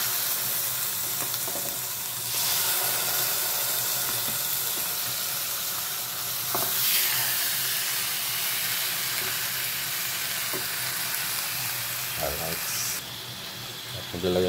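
Pork steak sizzles steadily in margarine in a pan, a continuous close frying hiss with occasional louder spatters and a few light stirring knocks.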